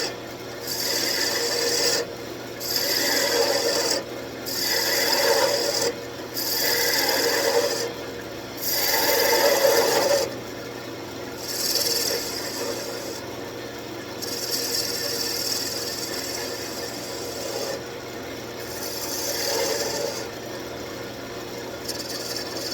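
A wooden Christmas tree ornament spins on a wood lathe while a gouge scrapes and cuts it, producing a steady rasping hiss in repeated passes of a few seconds each with short pauses between them.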